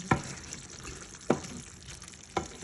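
Spicy Jaffna-style liver curry simmers in a pot with a soft bubbling hiss, punctuated by three distinct clinks or stirs spaced about a second apart, fairly close and moderate in volume.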